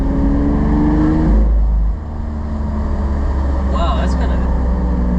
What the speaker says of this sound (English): Open up that exhaust a little bit.